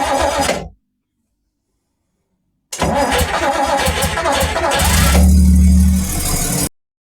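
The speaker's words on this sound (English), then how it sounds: "then you start the engine with the engine start button down here." A Daimler Ferret armoured car engine cranks and fires via its start button after a short silence, then settles into a loud, close, rough mid-range idle before cutting off.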